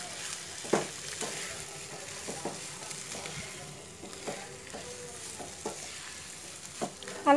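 Grated boiled potato is stirred through a pan for veg patty filling, a quiet, low sizzle with occasional soft spatula scrapes and a louder knock at the close.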